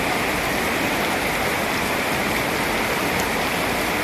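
Heavy rain pours down in a steady, dense hiss with no pauses, loud and close, and nothing else rises above it.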